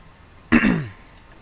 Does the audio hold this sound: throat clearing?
yes